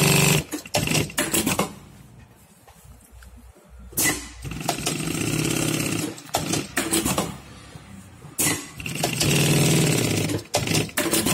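A Brother DB2B798 electronic straight-stitch sewing machine stitching thin material runs loudly in repeated mechanical bursts, each stitching run broken by short stops and a sharp knock of the needle plate.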